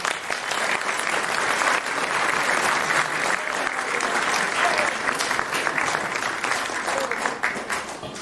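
An audience claps steadily after a talk on tourism in Choquequirao, dense applause holding loud throughout before tapering slightly at the end.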